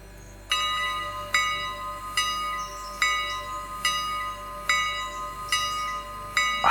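A locomotive bell in the railroad video game Railroader rings loud and close, six evenly spaced metallic strikes, each leaving a bright ringing tail. The bell sounds alone.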